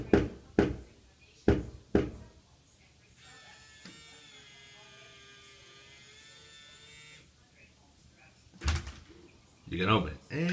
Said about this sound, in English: But if you know the secret knock,